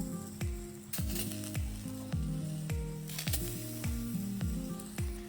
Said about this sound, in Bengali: এরপর আমি বেগুনগুলো যে ভালো করে কোট করে নিয়ে এলাম, একে একে বসিয়ে দেব।